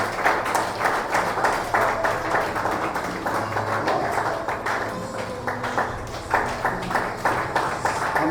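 A gathered congregation claps loudly and steadily to welcome a student at a Sunday evening prayer service, with brisk, even hand claps running throughout.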